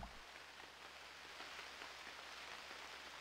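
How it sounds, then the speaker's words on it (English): Steady rain in the survival game Unreal World, a dense, even hiss of falling drops that fills the whole clip with no speech over it. "Oh, it's starting to rain."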